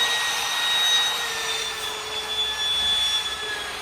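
A harsh, steady whirring hiss with high-pitched squealing tones as a rotary tool polishes a metal car exhaust downpipe for a VW MK7 GTI up close, continuous throughout.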